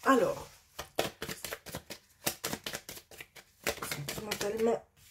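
Tarot cards shuffled by hand in a dense run of crisp riffling snaps and flutters, pausing briefly mid-way before a second longer burst, close and clear with no talking.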